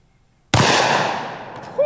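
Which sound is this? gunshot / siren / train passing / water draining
gunshot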